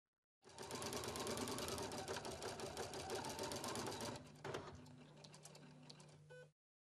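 A Husqvarna Viking Platinum Plus sewing machine embroiders a design, stitching at a fast, steady mechanical whir. It eases into lighter, sparser stitching partway through, then stops abruptly, close and clear.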